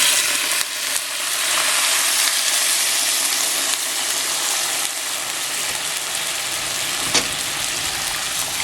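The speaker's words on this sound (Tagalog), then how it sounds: "dito po, ilalagay natin itong broth" Broth poured into a hot cooking pot for Filipino macaroni soup: a loud, steady hiss and sizzle that runs the whole time without pause, with a faint tap near the end and no talking.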